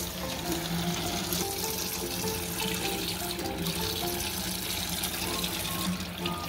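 A kitchen or bathroom tap runs steadily while hands are washed beneath it, a continuous close splashing water stream with small shifts in the flow and no pauses.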